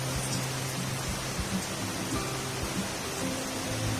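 Steady, dense rainfall during Typhoon Hanna hisses continuously at a home in the Philippines, a broad unbroken wash of falling water with a few faint low thuds mixed in.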